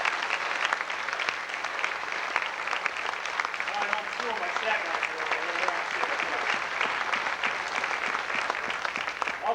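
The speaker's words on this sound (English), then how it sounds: "I'd like everybody to please give them a round of applause." Steady applause from a crowd fills the room at a school athletic banquet, continuous clapping with a voice speaking over it.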